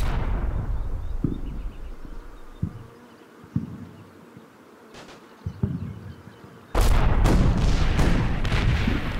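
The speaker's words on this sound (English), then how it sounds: "this is the guy who starts shelling our tank" Artillery shelling around a tank in the Combat Mission wartime video game: scattered sharp booms and impacts, then a loud sustained burst of rumbling explosions near the end, with a buzzing background drone throughout.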